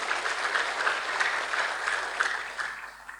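A church congregation claps in sustained, dense applause that holds even and fairly loud, then thins and fades toward the end.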